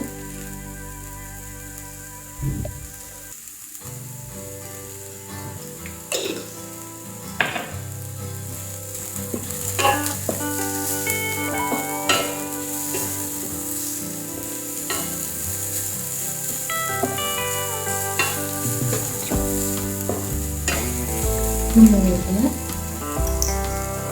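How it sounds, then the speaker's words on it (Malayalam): Softened onions sauté in a pan as salt is added for a mushroom dish, with a continuous sizzle and occasional stirring scrapes under steady background music. "ഇതേ സവാള വാടി വന്നിട്ടുണ്ട്. നമുക്കിനി കുറച്ച് ഉപ്പ് ചേർക്കാം."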